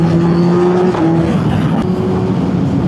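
A Suzuki Hayabusa 1300cc inline-four motorcycle runs steadily and close, with a deep, smooth bass engine drone that holds loud and constant throughout, with no talk over it.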